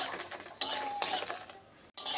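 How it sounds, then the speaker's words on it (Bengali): Dry red chillies being stirred with a metal spatula in an empty, dry kadai while making mango pickle, giving a few sharp scraping clinks in bursts, close and fairly loud, with no talking. "শুকনো কড়াইতে লঙ্কাগুলো আগে একটু হালকা করে টেনে নেব"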